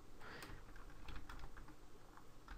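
Typing code on a computer keyboard, a rapid run of soft, quiet key clicks with an uneven rhythm over faint background noise, no talking.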